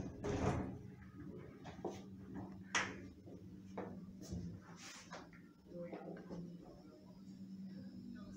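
A 2001 Oakland passenger lift in a Belfast building slides its door shut with a few thuds and knocks of moderate loudness, while a recorded voice announcement plays over the mechanical hum.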